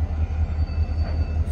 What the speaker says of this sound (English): So 501 is going to pull their train onto the siding here.